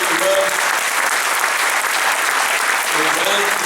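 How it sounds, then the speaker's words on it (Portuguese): A crowd at a political gathering in Portugal applauds loudly and continuously, a dense even clatter of many hands close by with no pauses, a voice faintly present beneath it. "temos que aplaudir"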